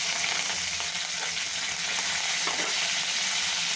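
Red chilies, curry leaves and asafoetida sizzle steadily in hot oil in a pan, a dense, continuous frying hiss with faint stirring, no voices.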